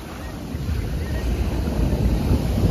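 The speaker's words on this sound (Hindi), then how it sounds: "हवा दे रहा है और वेव बन रहा है" Ocean waves at Anjuna beach in Goa roar in a steady wash, with strong wind buffeting the microphone and a dense low rumble throughout.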